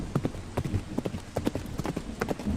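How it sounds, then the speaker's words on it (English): Horse hooves clip-clop in a steady galloping rhythm, moderately close and fairly faint, beneath a soft hiss of falling rain. "Faint galloping is heard."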